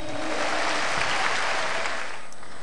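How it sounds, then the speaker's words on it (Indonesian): A stand-up comedy audience applauds steadily at a televised show, a continuous wash of clapping from a large crowd with no pauses. "tepuk tangan buat Metro TV"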